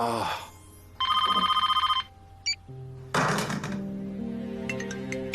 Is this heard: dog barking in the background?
no